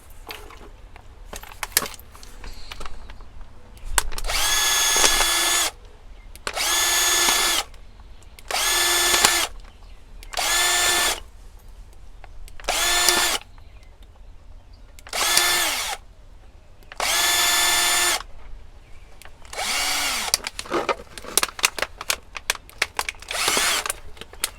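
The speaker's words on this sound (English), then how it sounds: "drill some holes in the top of the cap" A power drill whirs in repeated bursts, about nine short runs of a second or two each, drilling holes in a plastic bottle cap, separated by pauses with faint handling clicks.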